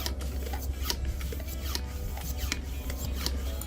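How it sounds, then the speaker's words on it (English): A homemade hand vacuum sealer pump pressed onto a jar lid, drawing air out of the jar with a steady rasping pump noise and repeated short hissing strokes, close up with no talking. "hold pressure down onto the lid with the pump, and start vacuuming the air out of the jar."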